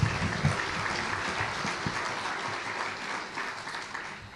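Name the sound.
audience applause for a keynote speaker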